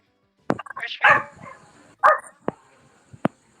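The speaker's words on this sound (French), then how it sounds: "vous avez un chien?" A dog gives a few sharp, close barks and yips, spaced irregularly through a short indoor moment without other sounds.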